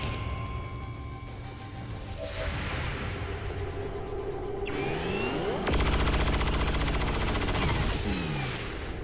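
XCOM 2 gameplay: gunfire with rapid automatic bursts, whooshing projectiles and heavy impact blasts that pile up in a dense, loud sequence of shots and explosions, with no voices over it.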